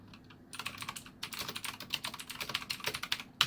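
Typing on a Blackweb mechanical RGB gaming keyboard with flat keys, rapid close clicky keystrokes in an irregular stream after a brief quiet start.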